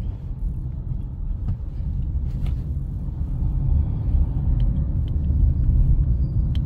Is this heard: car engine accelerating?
yes